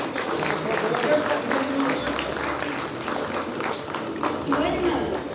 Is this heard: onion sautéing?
no